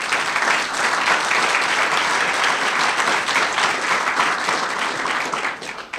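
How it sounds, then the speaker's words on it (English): Steady applause from an audience at a county government budget press event fills the room, continuous and fairly loud before thinning out at the very end. "So give them all a round of applause."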